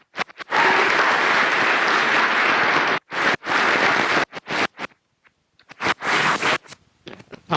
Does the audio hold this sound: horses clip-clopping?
no